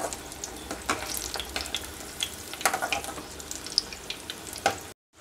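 Banana flower vada fry in hot oil at home, giving a steady crackling sizzle with sharper pops and spatters, close and moderate in level, ending abruptly.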